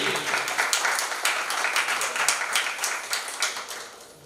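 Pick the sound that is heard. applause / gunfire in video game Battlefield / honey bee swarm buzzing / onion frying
applause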